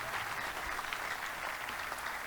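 Church congregation applauding, a dense, sustained wash of clapping from many hands that holds steady throughout.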